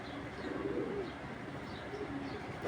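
A pair of Naptha pigeons coo softly at close range, low rolling coos repeating a few times over a faint, steady background murmur.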